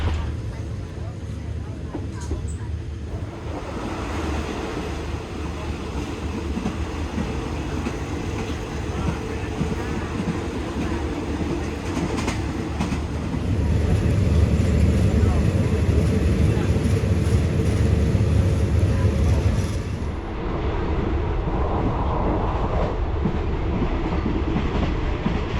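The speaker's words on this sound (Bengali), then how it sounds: "ব্যাংককের ট্রেন, ব্যাংকক থেকে চিয়াংমাই যাচ্ছে" A Thai Railways passenger train running from Bangkok to Chiang Mai rumbles steadily with rhythmic clickety-clack from the wheels, heard from inside the carriage, growing louder for a stretch midway, with faint talk in the background.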